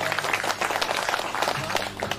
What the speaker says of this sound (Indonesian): Bapak Nasri Samad, tepuk tangan buat beliau.